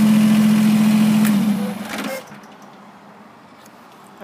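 A 2019 Kubota BX2380 sub-compact tractor engine idles with a steady low hum, then shuts down after about two seconds, leaving faint background noise; someone speaks nearby.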